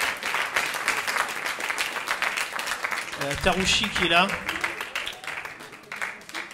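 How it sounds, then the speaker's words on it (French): A festival crowd at a short film screening in Colombes applauds the film's participants as they come on stage, a steady wash of clapping under a presenter's amplified voice. "On les applaudit bien fort"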